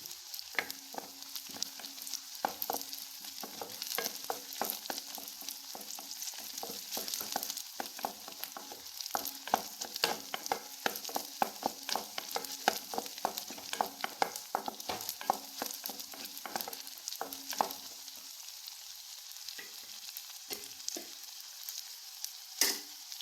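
Onions and garlic sauté in a pan for a chili chammanthi, with a steady close sizzle and crackle throughout, broken by frequent sharp stirring scrapes and clicks of a spoon against the pan.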